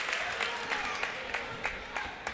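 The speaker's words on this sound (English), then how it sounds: "Blue Jay Nation stands up and applauds them" A crowd claps and applauds steadily in a gym during a girls high school basketball sectional championship game, the applause continuous with scattered sharper claps throughout.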